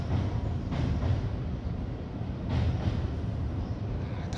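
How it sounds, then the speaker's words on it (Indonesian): A local rural train passing near a bridge in the Gifu forest in Japan, giving a steady, loud rumble with faint rhythmic wheel clatter and no talking. "Itu kereta daerah ya."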